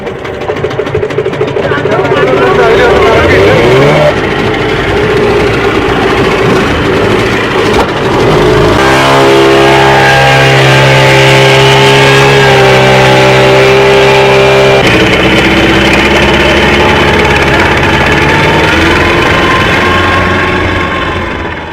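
An outboard-motor fibreglass boat carries election officials and polling materials to a booth, its engine droning loud and steady throughout, with pitch shifts as it changes speed and a constant hum of water and wind.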